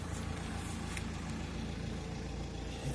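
A Ford Transit Custom van's engine idles steadily at low level, a continuous mid-pitched rumble with no revving and no talk over it.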